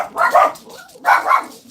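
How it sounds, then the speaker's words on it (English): Excited dogs bark in two loud bursts close by, with a short pause between them, heard indoors with no talking. "dogs are hyper."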